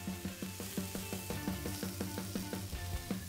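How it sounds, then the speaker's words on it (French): Steak sizzling in a hot frying pan, a soft steady crackle and hiss with faint rhythmic ticking beneath, quiet and close with no talking. "un bruit de friture se fait entendre quand je pose un coin du steak sur la poêle"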